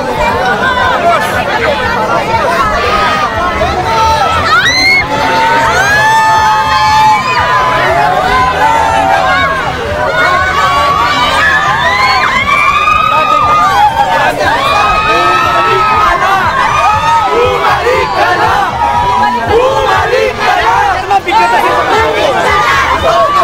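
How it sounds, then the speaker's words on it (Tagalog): A large rally crowd shouts, cheers and whoops continuously, a dense loud roar of many voices with chatter and children's cries throughout. "Parang may mga sumisigaw pa"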